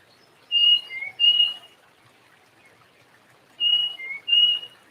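A bird sings clear, whistled two-note phrases, twice in quick succession, then a pause before two more, with quiet background hiss.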